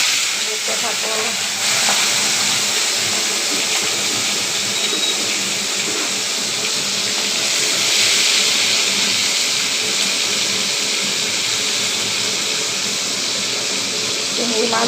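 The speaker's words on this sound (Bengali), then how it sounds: "এখানে তেল বসিয়ে দিয়েছি, কটা কটা করে ভেজে নেব, অল্প কয়েকটা করে।" Large prawns frying a few at a time in a pan of hot oil give off a steady, close sizzling hiss that holds evenly throughout.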